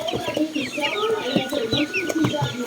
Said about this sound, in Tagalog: So this is our chicks here in the brother box.